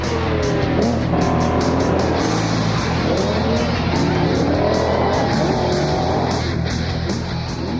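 Off-road race cars roar away together at the start of the Baja 2000, a dense, loud wall of engine noise with rising revs and possible tire squeal, sustained throughout with no speech.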